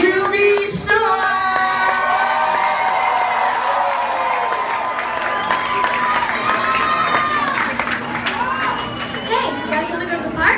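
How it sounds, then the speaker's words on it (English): An audience of children and adults cheers and claps for a camp group, with a sustained mix of applause, shouts and chatter throughout. "let's give a big round of applause for the UV Stars"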